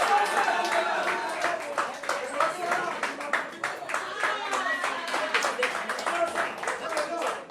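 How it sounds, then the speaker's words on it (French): Guests at a civil wedding ceremony clap steadily and warmly for the newlyweds, a dense, continuous round of applause lasting throughout with voices murmuring underneath. "On applaudit très fort."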